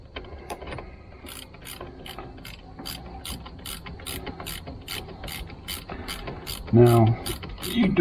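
A socket wrench ratchet clicks rhythmically and up close while tightening a car battery terminal, its steady series of pawl clicks carrying on throughout, with a brief louder clatter near the end.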